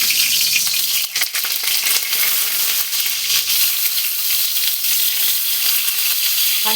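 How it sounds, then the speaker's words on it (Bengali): Pointed gourd pieces frying in hot oil in a wok, a loud, dense, continuous sizzle with crackling bursts and a brief clatter near the start. "তেল গরম হয়ে গেছে, কড়াই যে বসিয়েছি, এইবার আমি এতে পটলগুলো এক এক করে ছেড়ে"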